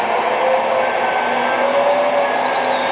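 Hydraulic pump of a 1/14-scale RC LR914 wheeled excavator whines steadily as the blade and outrigger leg lower, a loud continuous electric hum with faint pitch shifts and no talk.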